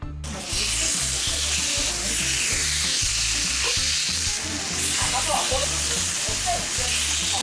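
Marinated pork galbi sizzles steadily on a grill at a long-established Korean restaurant, a close, continuous frying hiss with no talk over it.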